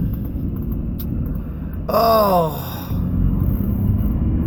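Worn car brakes grinding almost down to the metal, a harsh squealing scrape lasting about a second over steady low rumble, with a brief spoken exclamation nearby.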